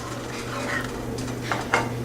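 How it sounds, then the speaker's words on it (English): A utensil stirring coconut paste into fish curry in a pan, with a few scraping clinks against the metal over a low steady hum, close and fairly quiet. "Stir it well."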